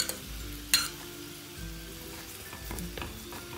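A paratha crisping in a pan with desi ghee gives a soft, steady sizzle that fizzes along quietly, broken by a brief scrape or tap near the start and a few faint clicks later.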